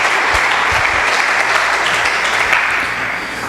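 A church congregation claps loudly and steadily on cue, a dense continuous roar of many hands that holds for several seconds before easing slightly at the end.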